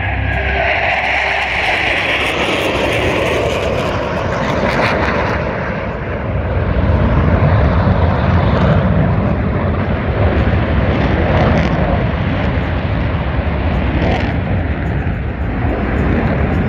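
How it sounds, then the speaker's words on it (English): Navy Blue Angels jets roar overhead at an air show, a loud sustained engine rumble that swells and fades as the formation passes, with faint crowd noise beneath. "From the right, your 2022 Blue Angels."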